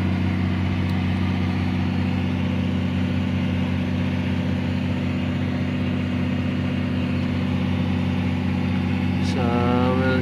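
Diesel engine of a Cat 345 excavator with an intermittent acceleration fault running at a steady idle, a loud, constant low rumble with a droning hum that holds unchanged throughout, and a brief higher whine rising near the end.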